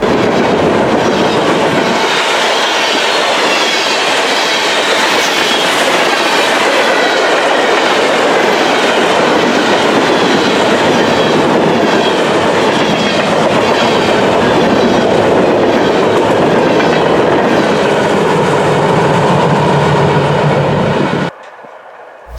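A CSX freight train passes close by for over twenty seconds, a loud steady rumble with clickety-clack of wheels over rail joints, cut off abruptly near the end.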